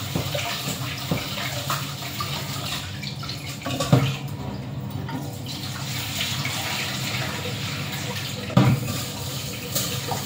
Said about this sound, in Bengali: আমি চাউলটা ধুয়ে নিচ্ছি